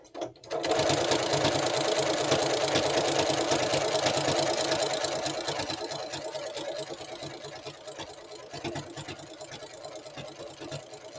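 Close, rapid whirring of a sewing machine sewing seams on a cropped sweatshirt, running steadily, then easing to a slightly softer pace toward the end.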